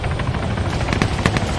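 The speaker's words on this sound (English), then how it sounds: "Never mind, it's a heavy chopper." A heavy military helicopter in the video game Arma 3, its steady rotor thrum and turbine roar filling the scene loudly and continuously, with faint gunfire-like cracks mixed into the din.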